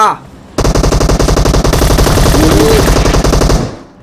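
Sustained automatic fire from a Groza rifle in a battle royale video game, a loud, close, rapid stream of shots lasting about three seconds before cutting off, with a faint voice underneath.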